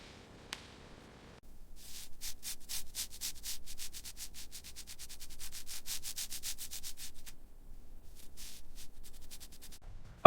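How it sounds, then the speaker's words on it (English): Fine-grit paper wet sanding a car body panel on a Ferrari SF90 XX hypercar, producing a quiet run of rapid, rhythmic rubbing strokes that continue steadily and then pause briefly near the end. "Apply water to the surface and begin sanding with fine grit paper."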